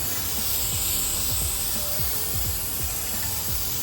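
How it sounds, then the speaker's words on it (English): Brake cleaner sprays in a steady, close hiss onto the brake caliper of a 2003-2010 Porsche Cayenne, one continuous burst with faint mechanical clicks underneath and no talking. "While I'm here, I figured I'd use some brake cleaner."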